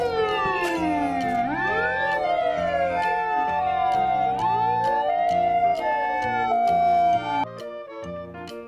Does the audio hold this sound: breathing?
no